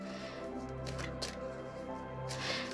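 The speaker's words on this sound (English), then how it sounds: "I want to give it a really good shuffle." Oracle cards being shuffled by hand, giving faint, soft papery riffling bursts under a low, steady background hum.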